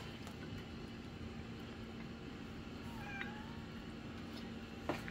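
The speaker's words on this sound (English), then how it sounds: "This cat has meowed for 2 days." A cat meows faintly a couple of times in a quiet kitchen, one short call midway and a brief sharper one near the end over a low steady hum.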